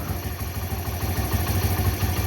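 A Bajaj Discover motorcycle engine, older model, idles steadily after a throttle and mileage adjustment, its low, even putter running close and alone with a faint mechanical clatter.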